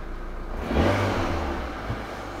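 A car engine idling near 890 rpm rises in a short rev as the throttle is pressed, then settles back to a steady hum, close and alone with no voices.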